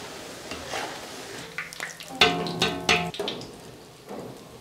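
Onions fry into birista in Fortune kachi ghani mustard oil for a street-stall chicken biryani, a quiet sizzle with scattered stirring scrapes and a few bright metallic clanks of utensil on pot, without speech.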